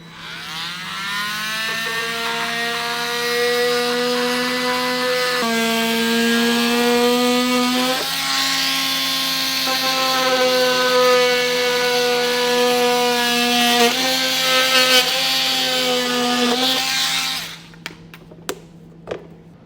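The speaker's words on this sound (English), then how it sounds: "I'm going to use a multi-tool to trim this" Oscillating multi-tool trimming a hard plastic bumper during a trailer hitch install, giving a loud, continuous high-pitched buzzing whine with shifts in pitch as it cuts, then stopping, followed by a few sharp taps.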